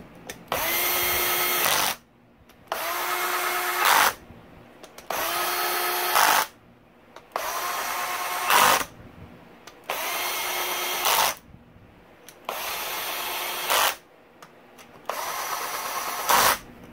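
A power drill runs in seven steady bursts of about two seconds each, with short pauses between them, tightening the bolts around the crankshaft of a Yamaha YZ125 during a transmission repair.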